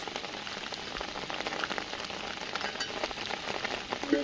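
Rain falls steadily, a dense continuous patter of drops on a surface at moderate loudness.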